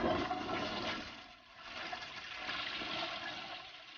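A toilet flushes in one continuous rushing, gurgling surge of water, loud and close, with no voices.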